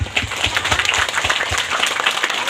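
An audience at a Sundanese-language Independence Day religious gathering claps hands in a loud, dense burst of applause that keeps going for the whole stretch.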